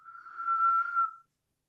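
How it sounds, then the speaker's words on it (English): A single steady, clear whistle from an unseen source near a cabin, caught in an outdoor field recording. It swells for about a second, then cuts off into silence, fairly faint with no voices around it. "that's the one where you hear this thing whistle"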